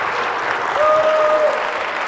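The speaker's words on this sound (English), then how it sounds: "let's give all of our 5th grade this year, 4th last year, a big round of applause" An awards-ceremony audience at Creekside KSA applauds 5th grade students, with steady, dense clapping that fills the hall for a couple of seconds and a faint tone running beneath it.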